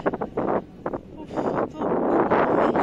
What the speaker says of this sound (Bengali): হাওয়াটা ছাড়লে সেই মজা লাগছে